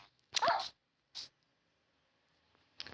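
A tamed dog barks in the video game Minecraft: two short, sharp barks close together near the start, then quiet, then another bark at the end.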